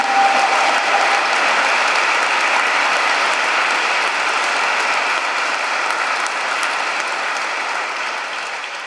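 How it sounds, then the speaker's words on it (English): Sustained audience applause at a grand opening ceremony for an institute, a broad wash of many hands clapping that holds steady for several seconds before slowly tapering. "he deserves a big round of applause for his achievement"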